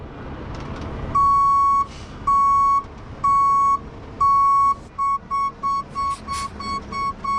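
A truck backing up in a parking lot sounds its reversing alarm, a series of loud tonal beeps that grow shorter and quicker toward the end, over a low engine rumble.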